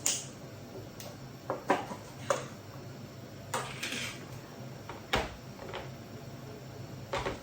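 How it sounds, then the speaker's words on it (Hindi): Two plastic buckets of yogurt being opened, heard as scattered plastic clicks, pops and lid knocks at uneven intervals, close and moderately loud in a quiet room. "दही की दोनों बाल्टियां मैं खोल लूंगी।"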